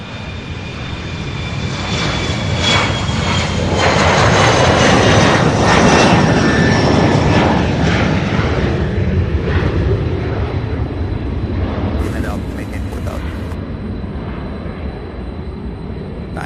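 A Delta Boeing 767 airliner takes off at Louisville's SDF airport with a loud, sustained jet-engine roar that swells to a peak midway and slowly fades, with no voices over it.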